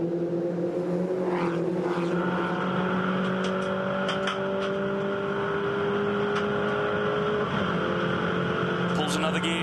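MINI Challenge race car at full throttle on the Gold Coast street circuit, its engine note rising steadily, then dropping as it shifts up a gear and climbing again, loud and continuous, with commentary speaking over it.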